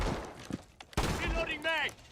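Gunfire in Rainbow Six Siege shoots into a wall in quick bursts of sharp reports, mixed with close voices talking over the shots.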